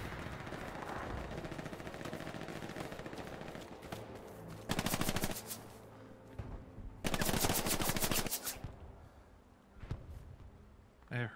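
Bursts of automatic gunfire crack out in a Hell Let Loose World War II battle, with two long rapid volleys standing out over a steady background of distant shots and battlefield rumble.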